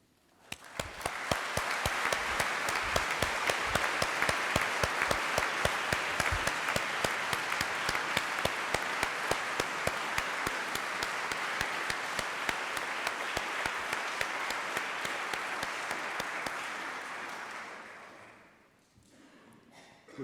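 Audience applause at a Greater Manchester Police new officer attestation ceremony, a dense, steady clapping from a large crowd that carries on for over fifteen seconds before fading out.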